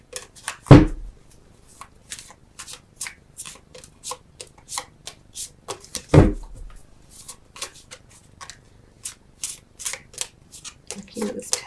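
Tarot cards are shuffled and drawn in quick riffling, rustling bursts, with two louder slaps or thumps as cards are set down, close and fairly loud.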